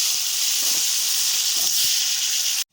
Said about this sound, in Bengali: মাছ ভাজা তেলটার মধ্যে হলুদ লবণ মাখানো সবজিগুলোকে ভেজে নেব।